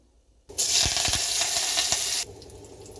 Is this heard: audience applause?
no